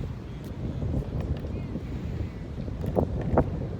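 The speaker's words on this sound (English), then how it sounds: "Alright, so yeah, it's very windy." Strong wind gusts buffet the microphone at an RC plane flying field, a loud continuous roar with rough swells and a couple of sharper bursts near the end, with no other sounds standing out.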